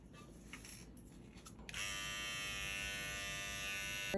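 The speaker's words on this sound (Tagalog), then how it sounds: "para hindi lumabas ang inyong mga buhok sa ilong, nose hair trimmer" An electric nose hair trimmer from a body shaver set switches on partway through and runs with a steady, close, high-pitched buzzing whine until the end, after quiet handling noises.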